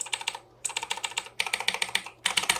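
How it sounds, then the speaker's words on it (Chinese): Typing on an Amice Lion Blade (AKB-1701-UBK) mechanical keyboard, close up: four quick bursts of crisp, clacky keystrokes separated by short silent pauses. "纯粹就是为了这个声音啊。 这按起来确实觉得蛮舒压的"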